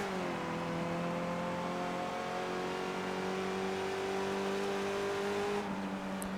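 Race car engine in a racing video game drones steadily throughout, with sustained harmonic tones holding a near-constant pitch and a slight rise in the last second, loud and continuous with no voices.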